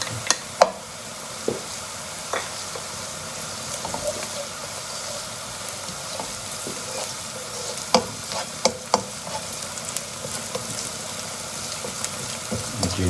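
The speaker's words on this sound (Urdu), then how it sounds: "اب اس میں میں ڈالنے جا رہا ہوں جنجر" Ginger goes into a pot for Lahori chicken and chickpeas, sizzling steadily in hot oil while a spoon stirs with sporadic scraping clicks against the pot, close and alone.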